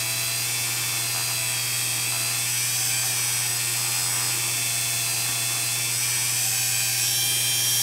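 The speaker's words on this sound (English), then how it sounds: "I'm just going to turn this on and just get some of it onto the Dremel like this." A Dremel rotary tool spins at high speed while loading polishing compound, a steady, loud, shrill whine with a low electrical hum beneath it, running continuously with no talk.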